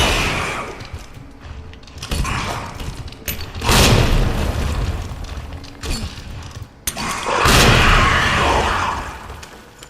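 Grenade blasts in Resident Evil 2 Remake, two heavy booming explosions with crackling debris, separated by clanking mechanical clatter and quieter stretches.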